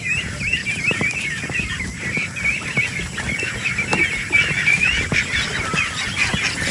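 Ducks on a low-budget farm quack and honk in a busy, overlapping chorus at moderate distance, with steady farmyard background noise and no talking.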